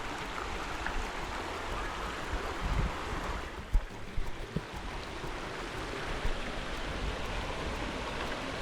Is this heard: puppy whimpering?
no